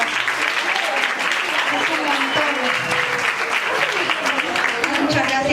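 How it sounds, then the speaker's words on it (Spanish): An audience applauds at a transfeminist, antiracist talk event, with steady clapping running through the whole stretch while a voice speaks over it. "Un aplauso para todos ustedes que salieron de sus casas."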